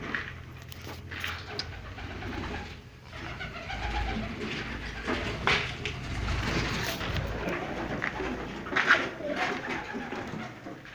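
Soft cooing from an Egyptian domestic pigeon sitting on three eggs repeats close by, mixed with rustling and a low engine rumbling in the background.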